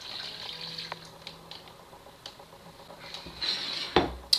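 Water runs from a tap in uneven bursts, splashing into a sink while rinsing out a beef jerky marinade bowl, with a louder gush and clatter near the end.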